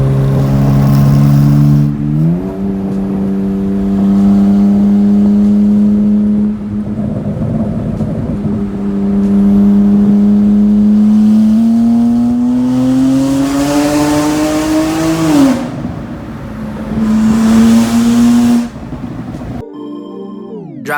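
Straight-piped BMW 335i with the N54 turbo engine downshifting in a long tunnel on an on-ramp in Mexico: loud, echoing exhaust with a sequence of rising and falling revs, drops between gears, and a sharp final blip near the end.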